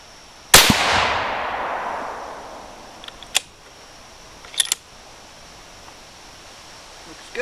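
A single sharp, loud rifle shot from a .22 Creedmoor firing 80gn ELD-M bullets, with a long decaying outdoor echo, followed by a few faint clicks and clacks of handling.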